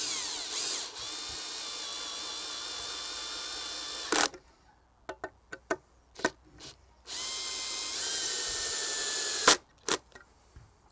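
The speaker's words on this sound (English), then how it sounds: "And then go ahead and screw the other two in." A cordless power drill drives screws into a wooden tillering tree, several loud bursts of whirring with short pauses and clicks between, close up and with no talk.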